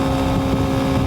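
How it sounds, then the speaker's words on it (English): A Honda 125cc motorcycle engine strains under load climbing a long hill at speed, a loud, steady buzzing drone mixed with rushing wind noise, close to the microphone. "I mainly just wanted to see how the engine was doing under extreme load"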